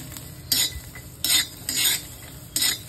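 Garlic sautéing briefly in a pan for a Marathi okra thecha gives a low sizzle under four sharp bursts of utensil scraping and clinking against the pan, close and without talk.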